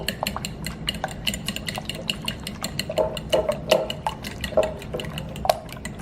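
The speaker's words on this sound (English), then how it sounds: "a fork's good for this so that you can beat those yolks all together" A fork beats egg yolks in a bowl for matzah balls, quick irregular clinks and taps against the bowl with wet stirring underneath, close and moderately loud.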